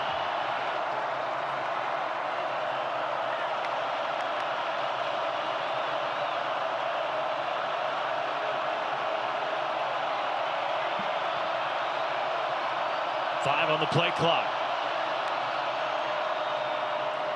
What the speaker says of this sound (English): now we're seeing the crowd at Carter-Finley make noise